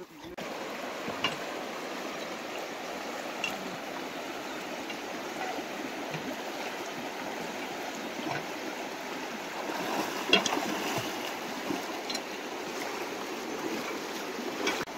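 River water flowing steadily during a river crossing in a forest area, a faint continuous wash and trickle with small splashes and no clear voices.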